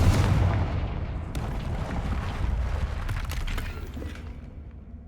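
Confringo spell explosion in the Hogwarts Legacy video game, a heavy booming blast with rumbling debris and crackling that fills the clip and slowly fades, loud and without talk.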